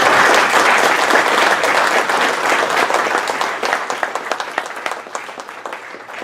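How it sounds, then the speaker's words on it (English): An audience gives a steady round of applause for a panel at a discussion event in Boston, loud and sustained at first, then thinning into scattered claps as it fades. "So let's just have a quick round of applause for our panel."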